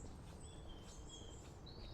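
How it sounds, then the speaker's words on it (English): Birds sing faintly along the Monmouthshire & Brecon Canal near Bettws Cwmbran ponds: thin, high whistles drift over a steady outdoor background hiss, with no nearby talking. "Listen to the birds."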